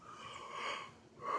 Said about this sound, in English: Because I just yawned and it's contagious.